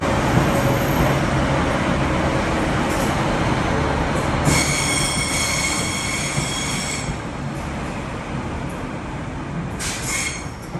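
A two-car Class 156 Super Sprinter diesel multiple unit rumbles in and slows on the Tyne Valley line, with high metallic wheel squeals cutting in partway through, loud and close with no talking.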